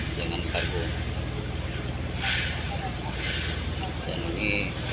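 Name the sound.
air blowing palm acid oil cargo line on tanker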